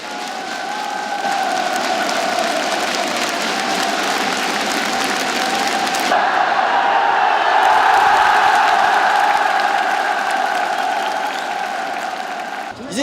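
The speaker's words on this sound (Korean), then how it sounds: "환호가 터져올랐습니다." Football stadium crowd in North Korea roars and cheers after a headed goal from a corner kick, a loud sustained wall of cheering and applause lasting the whole span, swelling midway.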